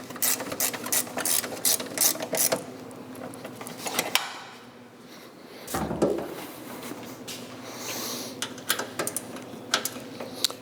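A ratchet wrench tightening truck side skirt bolts, giving bursts of fast metallic clicking with short pauses, close and fairly loud over garage background noise.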